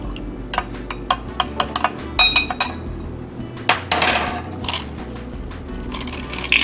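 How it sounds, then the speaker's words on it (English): A spoon stirs a lemon juice cocktail in a glass, giving repeated light clinks and taps against the glass, spaced unevenly, close and clear, with no talk. "And you want to give that a stir."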